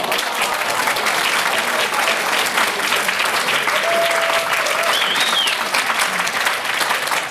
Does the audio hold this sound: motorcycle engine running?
no